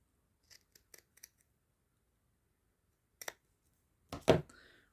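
Scissors snipping sewing fabric around a raglan pocket seam, a few short close snips in a quick cluster, then a pause and two louder cuts, in an otherwise quiet room.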